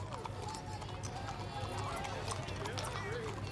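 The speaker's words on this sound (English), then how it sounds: "Large number of horses this year." Many horses, some decoratively dressed, walk in the 2008 White County Christmas parade, their hooves clopping steadily under continuous announcer commentary and outdoor crowd noise.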